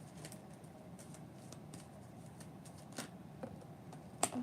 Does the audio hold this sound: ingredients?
no